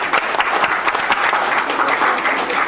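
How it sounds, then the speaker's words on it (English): A conference audience gives a round of applause for a registry business panel, dense and continuous clapping at fairly close range, with no talk over it. "Please give them a round of applause."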